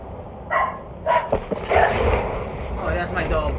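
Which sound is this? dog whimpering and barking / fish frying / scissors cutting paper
dog whimpering and barking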